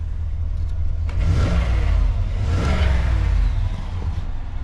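A 2015-2020 Cadillac Escalade V8 fitted with a catch can and AFM disabler idles with the hood and door open, a deep steady rumble with slight swells, close and continuous with no talk.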